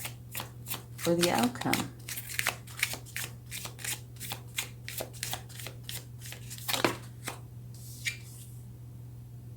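Tarot cards are shuffled and drawn in a quick run of crisp riffles and flicks, close and fairly loud over a steady low hum, while a voice speaks briefly.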